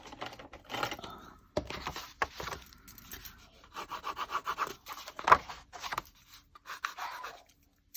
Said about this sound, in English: Let's draw on here with a pencil.